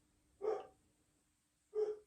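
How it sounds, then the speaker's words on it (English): Two short barks from a dog, spaced over a second apart, at moderate distance with quiet between them. "my dog is just barking inanely"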